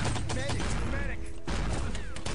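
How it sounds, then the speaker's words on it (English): Chaotic bursts of grenade blasts and artillery fire in a Wolfenstein: Enemy Territory match on the Supply Depot 2 map, dense and loud, with a commentator speaking over the fight. "Grenades, artillery support,"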